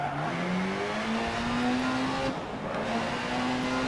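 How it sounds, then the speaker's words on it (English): A rally car engine in Dirt Rally revving high, a steady, loud whine that climbs in pitch as it accelerates, with a brief dip near the end before pulling again, no voices. "The car seems like it's revving a little higher, which is nice."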